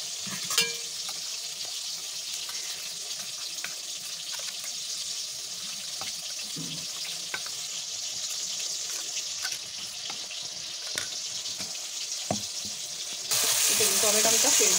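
Tomato frying in hot oil in a home kitchen, a steady soft sizzle with occasional stirring clinks and scrapes, brightening into a louder hiss near the end.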